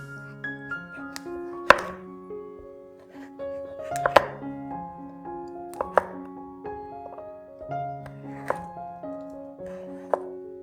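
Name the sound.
knife cutting avocado in half and into chunks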